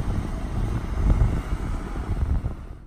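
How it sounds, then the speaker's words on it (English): Wind on a choppy beach at La Push, a loud continuous low rumbling buffet of gusts against the microphone, swelling and easing without pause. "but man, it's choppy"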